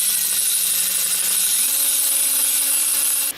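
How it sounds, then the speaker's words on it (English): Piston ring filer grinding a small amount off a piston ring during an engine bottom-end build, a steady high-pitched whirring grind with a tonal hum that shifts pitch partway through, close and continuous, no talking. "this is a ring filer"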